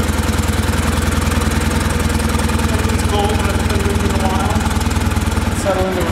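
A 1956 BMW R69 motorcycle engine idles close by with a steady, even, rapid thumping pulse that stays loud and constant for the whole stretch.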